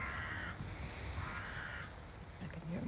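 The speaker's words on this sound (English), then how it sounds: "I can hear more crows in the background calling away." Crows caw in the distance, a few drawn-out calls mixed into steady background noise, with a voice faintly present.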